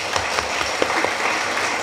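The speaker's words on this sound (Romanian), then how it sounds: "cred că trebuie să mulțumim prin aplauze" Applause for a minister at the launch event of a national institute for education and leadership: a loud, dense wash of clapping from a large audience that fills the whole short stretch without pause.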